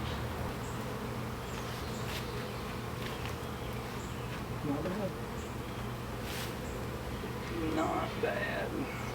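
A caught honeybee swarm with full brood hums as a steady, close insect drone throughout, while brief human voices come in near the end.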